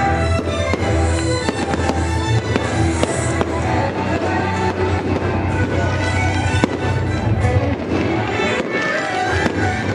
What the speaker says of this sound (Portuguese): Mas deu pra filmar a queima de fogos. Gente, olha que lindo a queima de fogos.